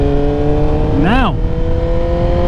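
A 2023 Suzuki GSX-R1000 motorcycle with a quick shifter holds a loud, steady engine drone, broken by one brief, smooth rev that swells and falls back within a second.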